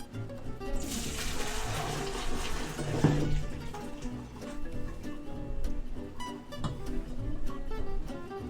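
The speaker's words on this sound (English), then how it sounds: "We're gonna pour the water off of these and return them to the pan." Cooking water poured off boiled gnocchi potatoes into a sink, a steady rushing pour lasting several seconds at close range, with faint kitchen clatter.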